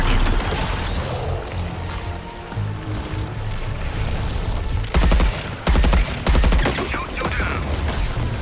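Heavy artillery battery fire in the video game Suicide Squad Kill the Justice League, with a steady wash of rumbling battle noise and several loud, deep booming blasts clustered near the end.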